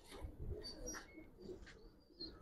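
Giribaz pigeons coo softly in a few short, low murmuring phrases, fairly faint and close, with a couple of thin chirps over a dull background hum.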